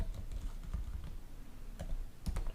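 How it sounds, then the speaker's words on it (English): Keys clack on a computer keyboard as random letters are typed in a quick, uneven burst, close and fairly quiet, with no talking. "I will just write some random letters"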